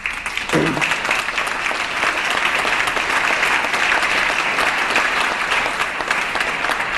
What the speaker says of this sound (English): that gives the Republicans something to clap about